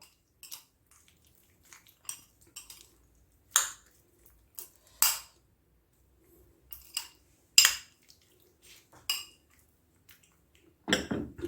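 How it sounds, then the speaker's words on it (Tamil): A spoon stirs honey into falooda, sounding as sparse, sharp clinks and scrapes against a glass or bowl, coming in irregular bursts separated by near silence. "நல்லா தேனை ஊற்றி நல்லா மிக்ஸ் பண்ணிக்க போகிறோம்"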